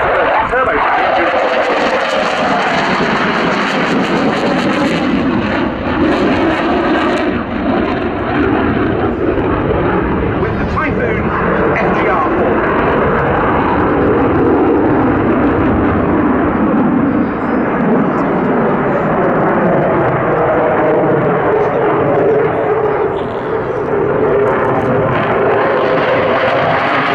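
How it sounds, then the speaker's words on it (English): Twin Eurojet EJ200 afterburning turbofans roaring at an air show at Duxford, a loud, continuous roar that shifts in pitch as the jet passes, with an announcer talking over it. "we're shortly to hear the roar of the twin Eurojet EJ200 afterburner turbofan engine"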